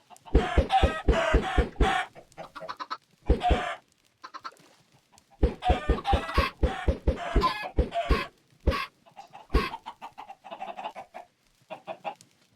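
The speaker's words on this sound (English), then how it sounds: "Good chicken. Good chicken." Chickens cluck repeatedly in the Minecraft video game, in quick clipped bursts of several notes, pausing briefly between groups, loud and close with no talking.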